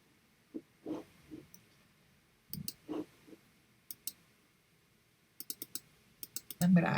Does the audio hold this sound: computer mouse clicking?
yes